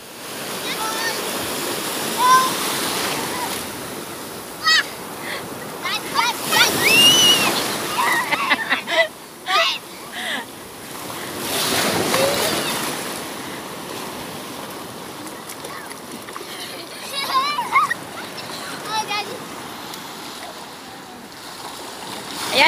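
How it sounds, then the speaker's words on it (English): Waves break and wash up on a beach at Muara in a continuous rushing roar that rises and falls, with voices of children and adults talking and calling over the surf. "big waves"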